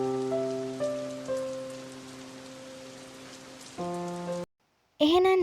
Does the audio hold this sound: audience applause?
no